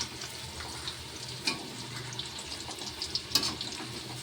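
Food for chicken biryani frying and being stirred in a pot, a steady close sizzle with scattered scraping strikes of a spoon against the pot.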